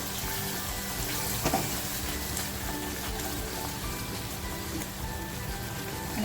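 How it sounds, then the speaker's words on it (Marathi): Water splashed into a pan of frying masala for a paneer dish sets off a continuous, even sizzle that holds at moderate loudness throughout, with a slight bump near the start and no talking. "थोडंसं पाणी टाकते"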